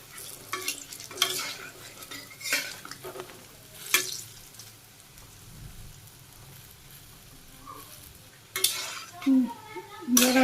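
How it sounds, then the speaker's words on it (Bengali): Flattened rice fritters (chire bora) frying in oil in a crowded pan, a low bubbling sizzle punctuated by several loud utensil scrapes and clanks as the pieces are turned, close by, with faint voices in the background. "চিড়ে বড়াগুলো দেওয়া হয়েছে আর জায়গা নেই, একে একে এইভাবে আমি সবগুলো ভেজে নিব"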